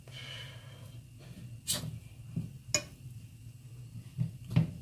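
Rice in tomato sauce stirred in a pan with a fork to separate the grains, heard as a few sharp, close scrapes and clinks against the pan over a low background hum.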